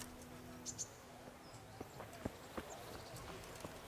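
Faint horse hooves clip-clop in an uneven rhythm in the video game Kingdom Come: Deliverance, over a quiet background, with a few sharp clicks scattered throughout.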